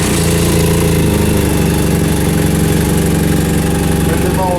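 A Rotax-engined BMW GS 800 motorcycle fires up right away and settles into a steady, loud idle, its close-range thrum continuing evenly with no talk over it.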